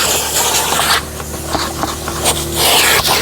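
A wet vacuum with a crevice nozzle drawing water and pet hair off a surface during mold cleanup, giving a steady close hiss and suction noise with scraping shifts as the nozzle moves.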